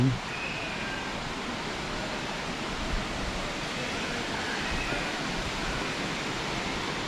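A river flows in front of a riverside campsite at Sungai Sedim, a steady, broad rushing wash of water that continues evenly throughout with no talking.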